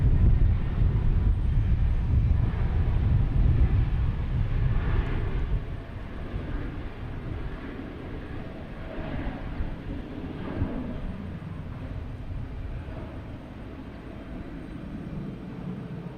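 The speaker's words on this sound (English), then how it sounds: "we got JetBlue heading to Punta Cana, A320" A JetBlue Airbus A320 airliner at Boston Logan Airport, its jet engine roar loud at first, then fading to a steady distant rumble mixed with wind noise, no speech.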